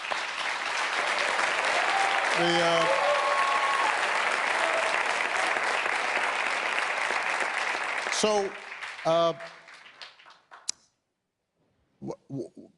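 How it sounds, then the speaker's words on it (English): An audience at a democracy summit in Copenhagen applauds steadily for about eight seconds, a dense wash of clapping that fades, followed by brief voices and a few scattered sounds. "All those people clapping up there"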